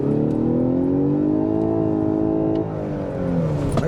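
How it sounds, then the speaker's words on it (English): A 2023 Lexus LS 500h AWD hybrid sedan in Sport Plus mode accelerating hard, its engine rising in a steady climbing drone that holds loud and close for several seconds before easing off briefly. "I liked what I heard, that engine noise."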